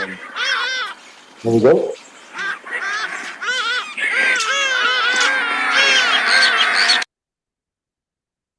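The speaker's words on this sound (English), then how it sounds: "all this effort is just to get you to listen to these sounds of the birds" Recorded bird calls are played to an audience. They come as bursts of honking and quacking, like ducks or geese, separated by short gaps. A brief spoken phrase sits among the calls before the sound cuts off abruptly.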